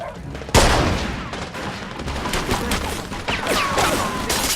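Gunfire in the Mafia II video game: a sharp blast opens a dense, sustained volley of loud, rapid shots that rattles on without pause, consistent with a mounted machine gun firing in a game shootout.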